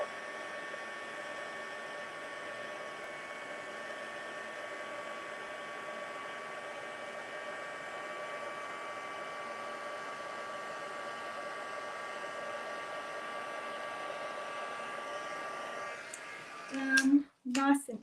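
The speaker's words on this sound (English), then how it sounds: "just going to grab my heat tool" An embossing heat gun blows with a steady, even whine and hiss for most of the stretch, close and constant, before it cuts off abruptly near the end with a couple of handling knocks.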